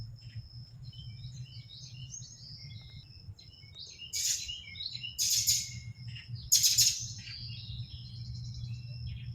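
Small birds chirp and tweet in the trees on a humid morning, with several brighter bursts of calls in the middle over a steady low hum and a thin continuous high tone.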